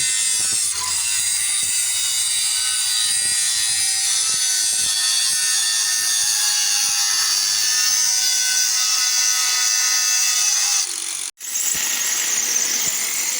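A loud, sustained high-pitched whine of an angle grinder cutting through metal shuttering at a bridge construction site, running steadily before a brief cutoff and restart near the end.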